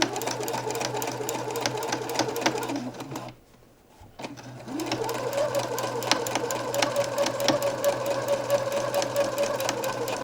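A sewing machine runs in a fast, even rattle while top stitching the side and bottom seams of a shirt, stops briefly for a second of near silence, then starts again at the same pace.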